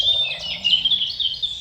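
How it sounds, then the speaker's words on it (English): Several birds chirp and trill in woodland at early morning, high bright calls overlapping continuously and fairly close, over a faint low background rumble. "all the birds singing."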